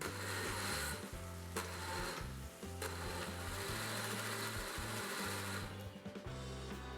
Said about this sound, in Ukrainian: вимикаємо вогонь і перебиваємо блендером в пюре